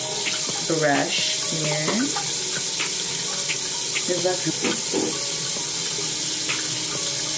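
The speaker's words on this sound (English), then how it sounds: "So I wet my Spinbrush" Tap water runs steadily into a sink to wet a Spinbrush facial brush, a constant close splashing stream with someone speaking briefly over it.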